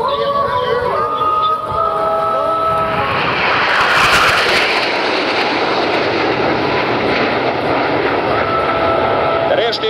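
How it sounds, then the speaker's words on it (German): Patrouille Suisse jets in formation roar past during an air display, a broad rushing engine noise swelling to a peak and easing off, with a loudspeaker announcer and crowd chatter underneath. "Vorbeiflug in der Figur Doppelpil."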